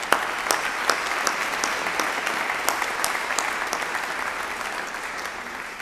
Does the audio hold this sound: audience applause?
yes